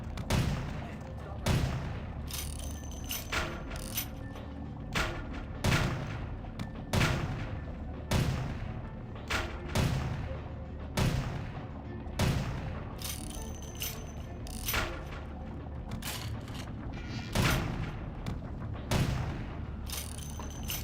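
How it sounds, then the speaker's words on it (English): Repeated bursts of gunfire from the vampire role-playing game Vampire The Masquerade - Bloodlines, shots cracking at irregular intervals over a constant low rumble of game ambience, fairly loud and close. "Would you stop shooting me?"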